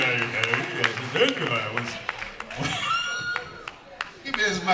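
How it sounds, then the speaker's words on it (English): An audience at a BB King Day symposium claps in scattered, uneven bursts while someone speaks over the applause, with individual sharp claps standing out against the voice. "A round of applause."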